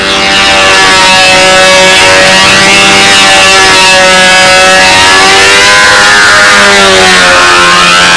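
Loud, sustained whine of a control-line model airplane engine spinning its propeller at a flying fly-in, the pitch rising and falling in wavering sweeps as the plane circles.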